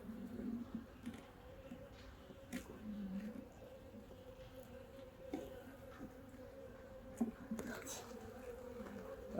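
Honey bees buzzing around a beehive colony being checked before winter, a close steady drone with individual bees flying past the mic and faint handling sounds, no clear talking.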